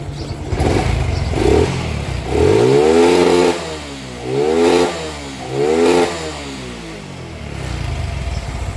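A Honda Wave 110i motorcycle, 2014–2018 model, fitted with a rev-limiter box raised to 12500 rpm, is revved in close, loud bursts, about four rising whines that climb and drop back to a rough idle between them.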